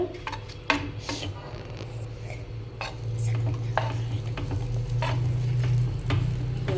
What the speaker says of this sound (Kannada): ಹಿಂಗೆಲ್ಲ ರೋಸ್ಟ್ ಮಾಡ್ಕೋಬೇಕ್ರಿ ಒಂದು ಸೈಡ್.